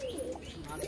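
Domestic flying pigeons coo softly in a short, faint burst, with a low murmuring call over light background chirps.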